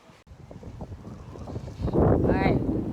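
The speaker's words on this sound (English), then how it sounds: "a little windy out here, a little noisy" Wind gusts outdoors buffet the microphone, low rumbling bursts growing stronger and louder toward the end, with a voice faintly audible earlier.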